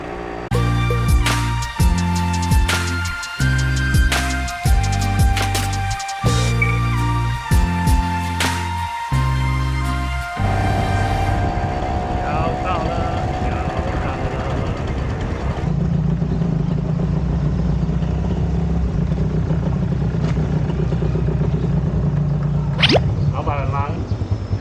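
A small motorcycle engine revving in bursts, then a steadier running hum with clattering as it rides along.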